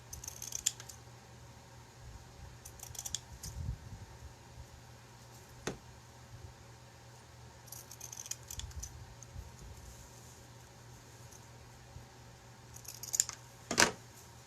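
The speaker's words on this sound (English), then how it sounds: "So I think I will trim these up a little bit." Scissors trim decorative ribbons for a pumpkin home-decor bow, giving a few faint, sparse snips and clicks spread across a quiet stretch, with one sharper cut near the end and no voices.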